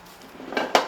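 Dishes and plates are handled while delivered food, rice and kkakdugi, is moved onto plates, with two short close clinks of tableware in quick succession.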